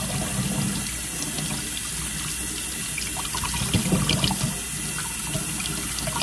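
Hot tap water runs steadily into a sink as vegetables are rinsed and rubbed under the stream; occasional splashes and handling sounds, no talking.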